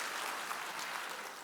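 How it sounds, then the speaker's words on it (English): Audience applause at a Jewish community awards ceremony, a steady, fairly faint wash of many hands clapping heard on its own without speech. "let's give him a round of applause"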